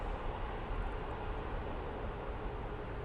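A Boeing 747 arriving on an airport runway: a steady, broad roar of engine and wind noise that holds constant throughout, fairly loud and close, with no break or talk.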